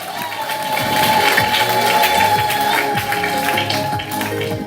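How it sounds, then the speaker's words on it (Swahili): A church congregation claps and cheers together during a sermon, a sustained dense burst of applause with scattered shouts, fairly loud and close. "Pigia Yesu makofi."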